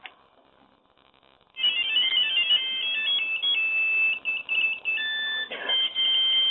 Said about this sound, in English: it's just going through all the melody, all 25 of them, and they keep on playing